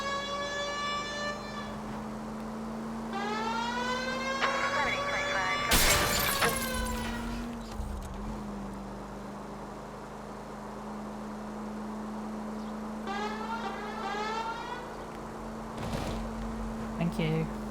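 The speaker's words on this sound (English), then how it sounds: "The siren might keep people out of your way, Phelps." Police car siren in L.A. Noire wails in rising and falling sweeps, cut by a loud crash of shattering glass, with a steady engine drone underneath and voices talking in between.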